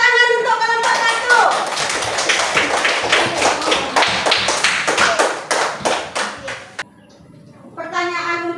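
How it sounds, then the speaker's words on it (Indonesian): A school class claps for a student group in a religious education lesson, a quick run of close, sharp claps over about six seconds. Voices speak briefly before and after the clapping. "Ya, tepuk tangan untuk kelompok"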